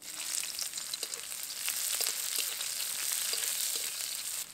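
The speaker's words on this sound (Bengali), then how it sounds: "এই তেলের মধ্যেই দিয়ে দেবো কালো জিরে, এবার দেবো পেঁয়াজ কুচি" Chopped onion and black cumin seeds sizzle in hot oil in a Bengali kitchen, a steady, close frying hiss with faint crackles throughout and no talking.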